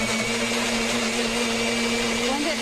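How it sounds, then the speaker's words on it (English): Blender whirring through pumpkin with vanilla, a loud, steady motor hum with a strong low tone and a broad high-pitched whine, constant for the whole stretch. "So throw the lid to the blender on. Make sure it's on tight so that pumpkin doesn't go everywhere."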